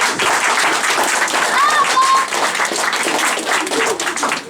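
Audience at a judo club's season awards ceremony breaking into loud, close, sustained clapping, with voices and cheers mixed into the applause.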